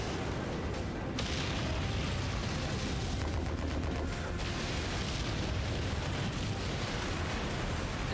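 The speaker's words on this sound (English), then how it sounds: "Incoming missile." Dense, continuous battle noise from the Mechwarrior 5 video game, with incoming missiles and explosions roaring loud and unbroken, and gunfire-like rumble filling the whole stretch.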